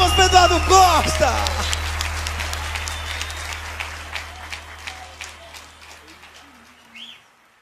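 A crowd claps and applauds at a sertanejo music show, loud at first and then gradually fading out, with some faint chirping sounds near the end.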